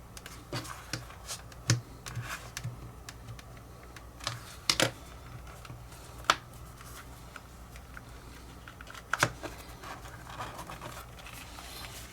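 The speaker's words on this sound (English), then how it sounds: "we go ahead and put MP screws into this all the way around" Small MP screws being driven by hand into plastic and metal parts of an Ecto-1 model kit, giving faint, irregular clicks and light scratching taps close by in a quiet room.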